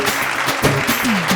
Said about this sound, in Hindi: मध्ये गोटे जोरदार करताली हो